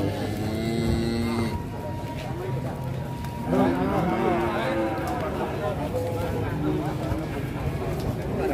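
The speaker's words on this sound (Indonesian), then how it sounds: "Ngeri sapi nih" A huge cow of nearly 900 kilograms lows at a livestock market, giving one deep moo near the start and a longer one midway, with people talking close by amid the market bustle.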